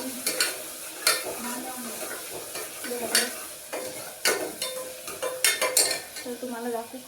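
A spoon scrapes and clatters repeatedly in a pan as a home-cooked vegetable curry with tomatoes sizzles, the stirring loud and close with irregular knocks against the metal.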